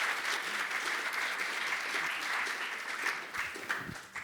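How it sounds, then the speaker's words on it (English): Audience applause at a Python time-series toolbox talk: several seconds of steady, moderately distant clapping from a crowd that fades slightly at the end. "let's give a round of applause"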